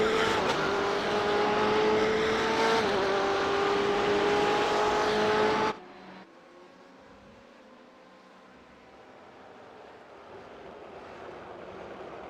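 BMW race car in a sim racing game at Sebring, a loud sustained engine whine with a shifting pitch, cutting off abruptly partway to leave a faint distant engine drone.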